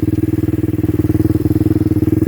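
A mini bike engine runs steadily at a rough, pulsing idle, close and loud, with a chugging rhythm and no one speaking over it.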